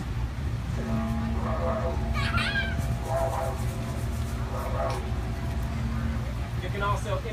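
A didgeridoo drones steadily while the player's voice hoots through it in several separate rising calls, imitating owls, loud and close.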